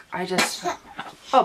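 A sudden, sharp human sneeze bursts out in the middle of a woman's speech, brief and close, with her talking continuing around it.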